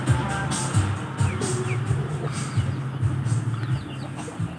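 A rooster fights a duck: steady low clucking and scuffling over a constant background hum, with faint higher bird calls scattered through and no talk.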